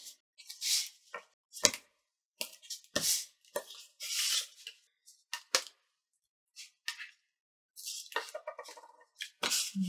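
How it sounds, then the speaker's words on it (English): Tear-and-tape adhesive tape handled while assembling a papercraft card storage box: a series of short, crisp tearing and crinkling bursts with quiet gaps, close and fairly loud, no voices. "So I'm going to use tear and tape again."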